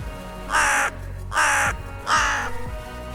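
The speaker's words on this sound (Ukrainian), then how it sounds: "Що робить ворона?" Three harsh caws from a crow, evenly spaced and fairly loud, each one a rasping call with brief gaps between.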